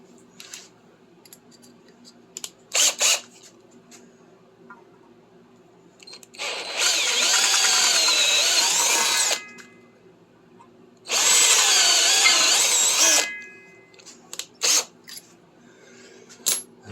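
A power drill fitted with a unibit step bit cuts into a block-off plate for a Triumph Spitfire 1500, two sustained whirring, grinding bursts of a few seconds each, framed by metallic clicks and taps.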